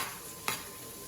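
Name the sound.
potatoes sizzling in a pan for corned beef hash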